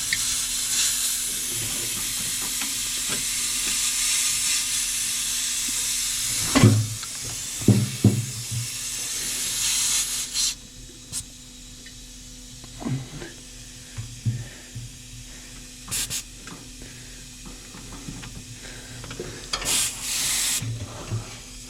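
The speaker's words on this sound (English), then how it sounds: "As you can hear, I've had her on for a couple minutes and it's developed a leak." Air leaks from a Triumph NTC-950 tire changer machine, a steady broad hiss for about ten seconds that then drops away, leaving a low hum with scattered thuds and handling noises.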